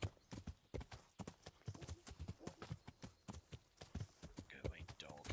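Horse hooves clatter in the video game Kingdom Come: Deliverance in a fast, steady galloping rhythm of close, sharp hits, with a voice talking over them.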